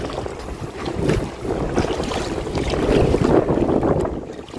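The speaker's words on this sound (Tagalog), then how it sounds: "lumalakas na naman yung hangin." Strong wind buffets a small boat at El Nido, Palawan, roaring across the microphone in loud gusts over rushing water, with no talk.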